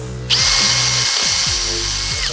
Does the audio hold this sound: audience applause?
no